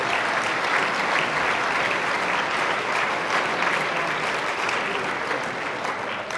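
Audience at the Greater Beverly Chamber of Commerce annual awards night applauding, a dense, steady wash of many hands clapping at an even loudness for the whole stretch, with no voices standing out.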